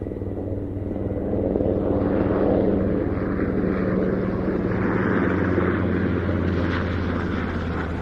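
NH90 TTH helicopter approaching at an air show, a steady broad rotor and engine roar that swells slightly as it nears, with a low drone underneath and no talk.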